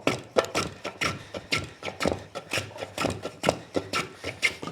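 Repeated rasping strokes of a No. 4.5 smoothing hand plane shaving spalted beech, a rhythmic series of close swishes, roughly three per second, with no talking.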